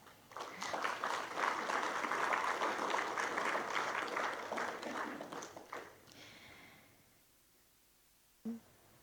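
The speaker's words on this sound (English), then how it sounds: "Please let's give them a round of applause." An audience at a leaders' conference opening session bursts into applause for several seconds, dense clapping that thins and fades out, followed by quiet and a single knock.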